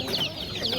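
Chickens and roosters at a poultry bazaar give a short burst of clucking calls, close and moderately loud, over faint market murmur.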